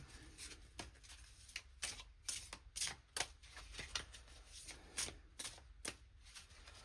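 Tarot cards riffled and shuffled by hand in repeated quick bursts, crisp flutters and snaps with short pauses between, quiet and close, with no talking.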